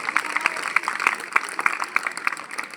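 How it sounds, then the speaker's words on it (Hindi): A school audience at a Republic Day function at Dagdiha Higher Secondary School claps for Shukla ji, a quick, fairly steady run of hand claps mixed with murmuring voices at moderate loudness. "मैं चाहता हूं शुक्ला जी के लिए तालियां बजाइए आप एक बार"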